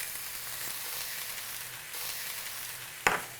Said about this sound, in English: You should be hearing lots of cooking under that lid